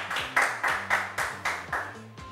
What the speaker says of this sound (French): Applaudissements, s'il vous plaît, pour Laurence.